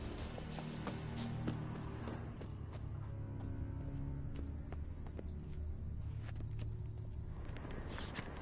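Hooves of Geralt's horse Roach in The Witcher 3 clatter in a quick, irregular galloping rhythm over a low rumbling background, fairly faint with no speech.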